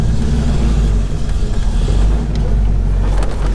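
A 1973 Camaro SS with cowl induction hood rumbles loudly and steadily, its deep low engine note sustained throughout with slight swells, heard up close from inside or beside the car on a residential street.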